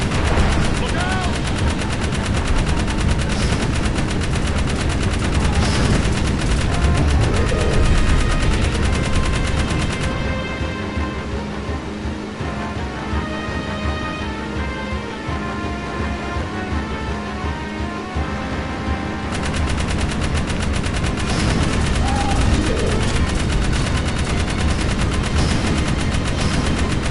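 Sustained rapid gunfire in Jak 3 as enemies in the sky are shot at, loud and continuous in two long stretches with a quieter gap between, game music and voices underneath.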